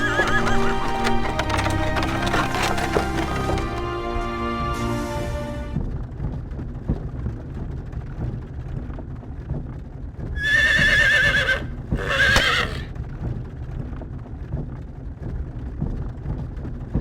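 A horse-drawn wagon sets off in the Star Ocean video game: a horse neighs loudly twice and hooves clip-clop steadily over a low rumbling backdrop, with an earlier stretch of dense, busy sound.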